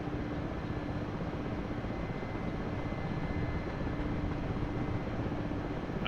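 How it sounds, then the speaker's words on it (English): Helicopter flying in a combat flight simulator, a harder-to-fly machine than the Huey, giving a continuous dense rotor and engine roar that holds steady and loud throughout, with no talk. "This helicopter also a lot more difficult to fly than the Huey."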